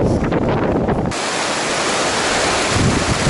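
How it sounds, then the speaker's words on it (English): A Himalayan river on the Annapurna circuit, a tributary of the Ganga, rushes steadily in a loud, unbroken wash of water. Gusty wind buffets the microphone throughout, with no voices. "Now we are walking along the John Kola River, the tributary of Ganga."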